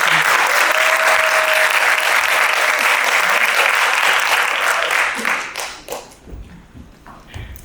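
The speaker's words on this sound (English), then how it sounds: "Please give her a round of applause." Loud, dense applause from a large audience at a music conference in the Durban Playhouse, steady for about five seconds before dying away into a few scattered claps and faint noise.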